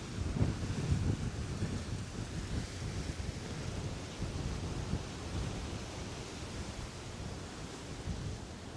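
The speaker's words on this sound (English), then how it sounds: "This wind is crazy." Strong wind blows beside the Hudson River in New York City, a steady, rough roar buffeting the microphone throughout with gusty surges, loud and continuous with no talking.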